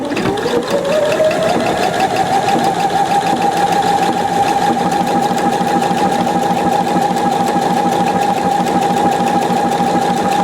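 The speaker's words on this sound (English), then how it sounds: "I'm going to take a piece of ponti to try the stretch stitches" A Pfaff 720 sewing machine runs steadily, stitching stretch stitches on ponti knit with a continuous close, loud motor whir and rapid needle rhythm throughout, without talk.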